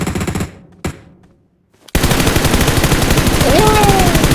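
Rapid bursts of gunfire in the mobile battle-royale game PUBG Mobile, loud and dense, breaking in after a brief near-silent gap and continuing steadily to the end.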